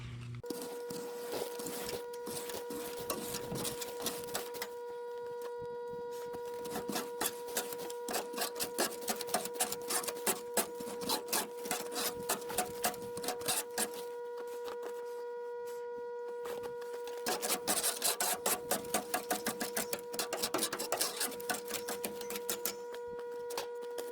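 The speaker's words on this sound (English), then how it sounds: "I like to go and rake it out a bunch first." Ash is raked out of a Central Boiler CL 4030 outdoor wood boiler, with bursts of repeated gritty scraping strokes over a steady mechanical fan hum.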